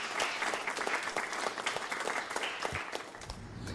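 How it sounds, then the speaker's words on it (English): A crowd of students applauds at the end of an agricultural technology interview, with steady, fairly quiet clapping that thins out toward the close. "Let's give them a round of applause, guys."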